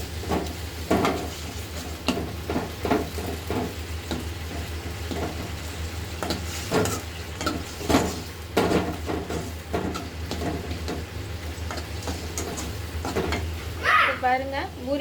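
Potato masala for poori fries in a pan while being stirred, with repeated scraping strokes of a spoon against the pan over a steady sizzle, and brief soft background sounds near the end.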